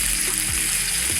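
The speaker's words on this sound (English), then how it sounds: "the chops are sizzling nicely" Boneless pork loin chops sizzling in a frying pan, a steady bright hiss with faint pops, close and constant for about a second.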